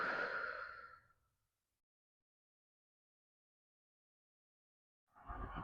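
A person breathes out deeply during yoga, with one soft breathy exhale at the start, then near silence, then another breath beginning at the end.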